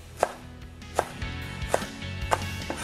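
Knife slicing green onion diagonally on a cutting board, four to five evenly spaced crisp chops with soft thuds, close and clear with no talk.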